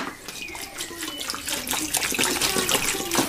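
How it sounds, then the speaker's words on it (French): Roughly two litres of water is poured into a cooking pot while making melokhia, a steady close splashing and rushing that grows slightly louder as it goes. "Alors on rajoute l'eau."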